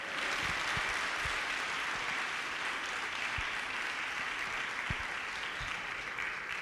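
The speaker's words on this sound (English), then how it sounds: "give yourselves a round of applause" Steady applause from a workshop audience fills the room, dense and continuous clapping at an even level throughout, with a few sharper individual claps standing out near the front.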